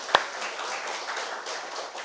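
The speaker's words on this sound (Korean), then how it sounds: "우리 환영합니다 하고 우리 박수 한번 하도록 하겠습니다" A church congregation claps to welcome a newly registered member during a worship service, a dense, steady patter of many hands lasting the whole moment, with one sharp nearby clap standing out at the start.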